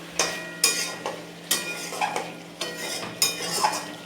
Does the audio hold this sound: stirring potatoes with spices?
yes